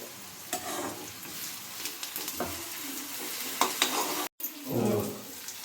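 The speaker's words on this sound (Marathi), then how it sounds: "आता आपला फक्त फ्राय करायचं आहे." Boiled kalwa clams (oysters) frying and stirred in a pan for a Konkan-style home recipe, a steady close sizzle with scraping stir strokes, a brief dropout, then a louder burst of sizzling.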